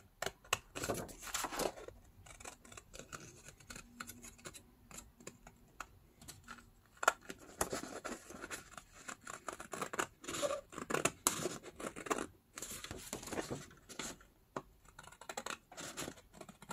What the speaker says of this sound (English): And now I can cut that pattern.